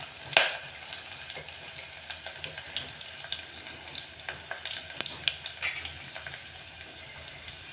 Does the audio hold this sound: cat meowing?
no